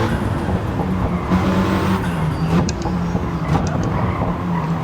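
A Mitsubishi Lancer Evolution race car in a racing sim video game drones loudly through a corner, engine revs shifting with a brief tyre squeal, with no voices.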